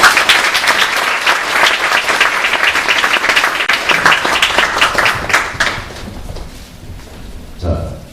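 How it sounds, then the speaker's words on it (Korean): Loud, dense applause fills the hall at a Korean theater award and scholarship ceremony, a thick continuous clapping that tapers off after about five seconds into quieter scattered sounds and a thump. "정말 큰 격려의 박수를 부탁드리겠습니다"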